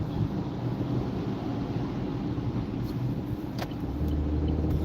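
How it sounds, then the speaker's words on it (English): Road traffic inside a moving car, a continuous low engine and tyre rumble with wind noise, steady and fairly loud, a few brief passing whooshes and no speech. "There's a lot of traffic here"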